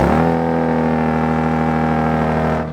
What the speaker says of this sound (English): this isn't the loudest truck on the planet